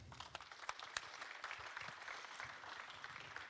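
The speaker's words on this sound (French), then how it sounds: "Et on vous applaudit tous les trois." An audience at the Côte d'Opale Web'Trophées awards ceremony applauds three winners: dense, even clapping from many hands that holds steady for the whole span, heard at a low, somewhat distant level.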